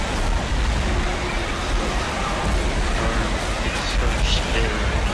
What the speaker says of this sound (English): Dude, has it ever rained this hard where you live?